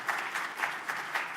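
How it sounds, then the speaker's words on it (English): Brief, fairly faint applause from a small audience for panelists during a European Jewish Association delegation event, a soft patter of claps with a few slightly louder bursts. "If you can give them a round of applause."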